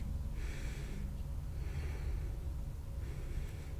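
Slow, audible breaths during a yoga class for anxiety, three soft airy inhale–exhale cycles spaced about every second and a half over a steady low room hum.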